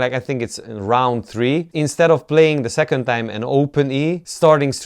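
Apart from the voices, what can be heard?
No distinct noise like a dog, phone or traffic.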